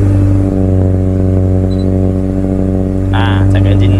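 The engine of a Mitsubishi Lancer CK4 with a faulty air flow sensor runs loud and close with a steady, even drone, and a brief higher-pitched sound near the end.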